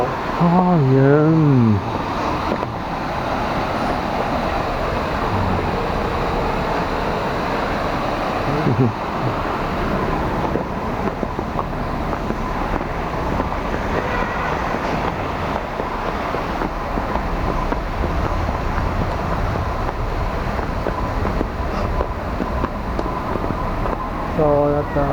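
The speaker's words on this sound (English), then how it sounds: "Over there, the waterfall." A man-made waterfall in a Japanese temple garden at Naritasan Shinshoji Temple gives a steady, broad rushing wash throughout. Voices speak briefly over it at the start.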